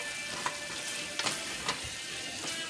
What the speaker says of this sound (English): Then I'm going to add some more garlic, ginger, pimento. And then we're gonna combine this well.